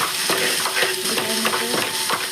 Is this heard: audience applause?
no